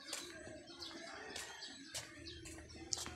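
Sparrows chirp in short bright bursts, five or six quick calls spaced through a few seconds, fairly near over a quiet outdoor background with faint low rumble.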